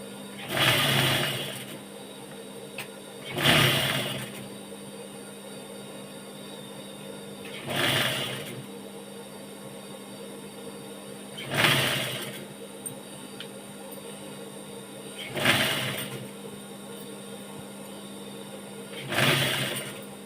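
A sewing machine stitching fabric for a nightie runs in six short bursts spaced a few seconds apart, each a close, whirring run of stitches separated by quiet pauses.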